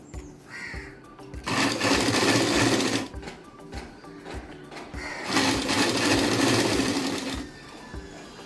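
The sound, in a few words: sewing machine stitching a blouse shoulder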